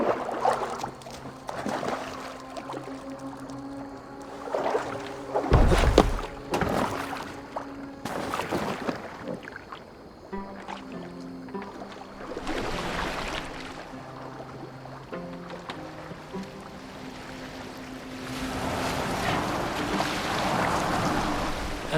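A boat moves across water in the video game Assassin's Creed Valhalla, with soft splashing and lapping that swell and fade under background game music and scattered effects.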